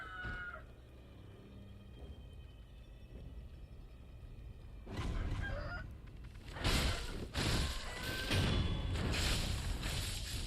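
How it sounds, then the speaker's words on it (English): Roosters crow inside the Sekiro video game, with several overlapping calls that come and go over a low rumbling ambient bed, building louder toward the end. "roosters everywhere"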